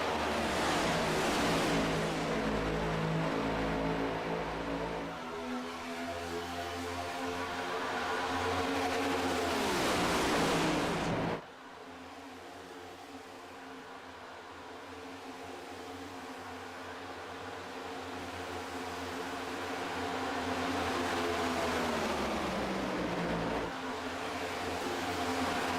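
Stock cars roar around an oval track after a restart, a dense, loud engine drone rising and falling in pitch as the field accelerates and passes, with no talk.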